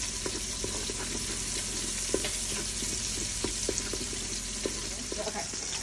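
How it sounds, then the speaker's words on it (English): Garlic sautés in oil inside an Instant Pot while being stirred, giving a steady close sizzle broken by light scraping taps of a utensil; no speech is heard. "So we're gonna add the garlic. And we're just gonna stir that around for 30 seconds."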